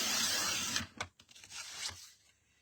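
A sheet of card being cut to size for a handmade nature-themed greeting card: a sustained close tearing, slicing rasp, then a few short separate cuts, with no talking.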